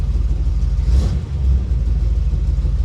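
A 1936 Chevy hot rod engine runs at a steady idle, a close, loud, deep rumble with a brief rise in revs partway through before settling back to an even burble.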